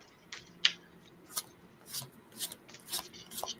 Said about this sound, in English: I'm just going to shuffle briskly.